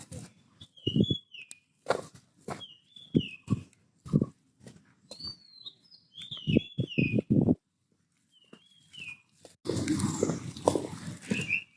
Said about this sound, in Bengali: পাখির আওয়াজ শোনা যায়